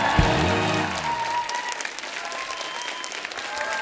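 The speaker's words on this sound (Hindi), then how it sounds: "जोरदार तालियां हो जाए हमारे सुपरस्टार आरजेस के लिए" A studio audience at a comedy show with radio jockeys as guests breaks into loud, dense applause that carries on steadily, with a musical sting sounding under it at the start.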